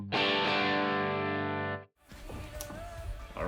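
An electric guitar chord through a Line 6 Helix compressor rings out loud and sustained, then cuts off abruptly, followed by quieter room noise and a soft trailing tone.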